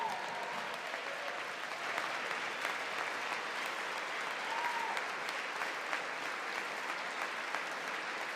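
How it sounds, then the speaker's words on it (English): Sustained applause fills the Congress chamber during a presidential address, a dense, even wash of clapping from a large audience that carries on steadily throughout. "There are a few Democrats clapping."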